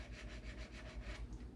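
A sanding block rubs against a guitar fret end in quick, even back-and-forth strokes, close and fairly quiet, about eight passes in a steady rhythm.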